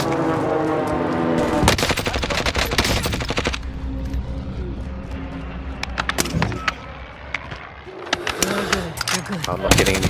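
Rapid gunfire in Call of Duty Warzone, with bursts of automatic fire and sharp single shots in a wooded area, loud and near, over ongoing game ambience and some speech.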